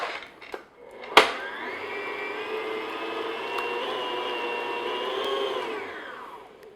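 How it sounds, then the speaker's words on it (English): An electric mixer beating almond extract into candy cane cookie dough: after a brief clunk, a steady close motor whir runs for about five seconds, then winds down. "So I'm just going to mix that in."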